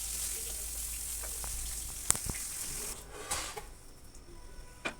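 Fish sizzles quietly in hot oil in a wok for a turnip, potato and fish curry, a soft continuous crackle with a few sharp clinks and scrapes of a utensil partway through.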